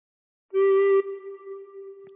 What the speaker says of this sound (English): Cover holes 1 to 3 with fingers 1 to 3 and blow once.